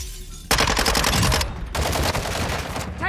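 Rapid automatic gunfire in Call of Duty: Modern Warfare II DMZ mode, loud sustained bursts starting abruptly, briefly pausing, then resuming dense and close.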